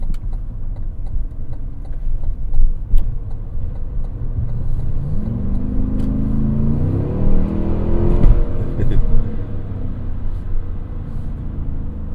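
A 2025 Cadillac Escalade Platinum engine rumbles low from inside the cabin while driving, then swells and rises in pitch as the throttle opens midway before settling back to a cruising hum.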